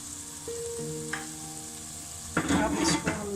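Spices such as salt, coriander powder, white cumin and cinnamon are stirred into lobia (black-eyed beans) in a frying pan, with a brief scraping burst late in the clip over a faint background sizzle and hum.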